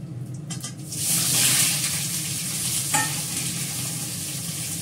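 Potatoes and asafoetida frying in a pan give a steady, close sizzle with a brief louder burst near the start, continuing evenly without speech.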